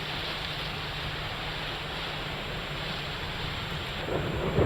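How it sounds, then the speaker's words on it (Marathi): Heavy monsoon rain in Thane roars in a thick, unbroken wash of noise, with a low rumble underneath that swells slightly near the end. "सकाळपासून मुसळधार पावसाला सुरुवात झाली आहे"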